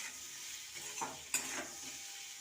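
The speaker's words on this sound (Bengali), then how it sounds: "এখন আমার ভাজা হয়ে গেছে এবার নামিয়ে নেব" Sliced papaya frying in a pan for a home recipe, a faint soft sizzle with a couple of quiet stirring scrapes and clinks, no voices.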